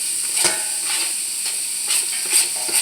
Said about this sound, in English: we're going to get our onions to start to cook